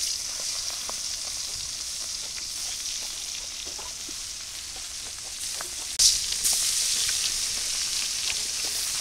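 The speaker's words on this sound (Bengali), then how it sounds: "কড়াই তেল গরম হয়ে গেছে, আর আমি মাছগুলো দিয়ে দিই" Turmeric-coated hilsa fish sizzle steadily in hot oil in a wok, a continuous close hiss with faint crackles that grows louder and brighter after fresh pieces go in partway through.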